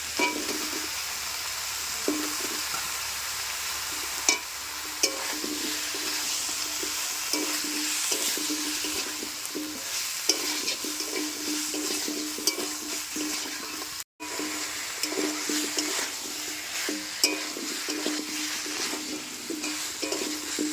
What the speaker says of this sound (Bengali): মাংস ধোয়ার পরেও এক পিস ভালো মতো নাড়ে চলে নিচ্ছি